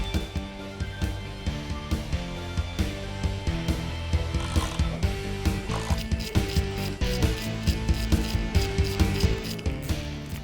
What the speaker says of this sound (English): So we're taking the T40 to unscrew the two bolts that are on either side of the front visor on the driver's side.